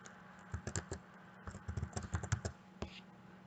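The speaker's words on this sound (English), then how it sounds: "Type in scissors again." Bursts of quick keyboard typing, clicks in short irregular runs with brief pauses, close and fairly quiet.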